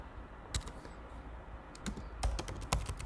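Keys tapped on a computer keyboard while entering a label for a 4x4 pressure-treated southern yellow pine post in AutoCAD: scattered soft clicks, a few early and a quicker burst near the end, quiet and close with no talk.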